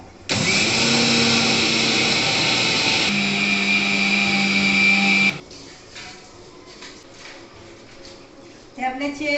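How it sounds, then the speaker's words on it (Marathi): A mixer grinder grinding chia seeds into powder, its loud steady motor whine running for about five seconds with a brief pitch shift midway, then stopping and leaving quiet kitchen noise behind. "या चियाच्या बिया ह्या बारीक करते आता"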